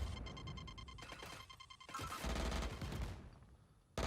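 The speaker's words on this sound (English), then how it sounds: "That's a sick paint shells throw." Raze's Paint Shells cluster grenade going off in a Valorant tournament match, with a rapid burst of several sharp blasts and crackling detonations over about four seconds, no voices heard.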